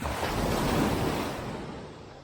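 Ocean waves surge and wash in a broad, roaring rush, loud and close, mixed with wind buffeting the microphone, no voices.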